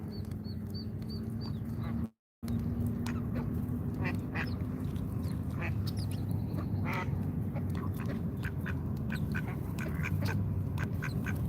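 Several ducks quack repeatedly in short bursts outdoors in Washington DC, over a steady hum of crowd and street noise, with a brief dropout near the start.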